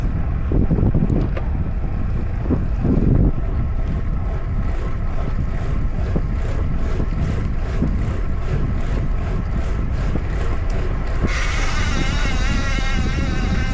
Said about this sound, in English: Those wheels are crazy loud.